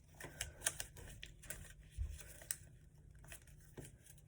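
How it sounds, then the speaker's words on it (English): Sheets of paper are creased and folded by hand into a complex paper airplane, with crisp crinkles, taps and rustles coming close and quiet in an uneven rhythm. "You're just gonna rabbit ear fold this."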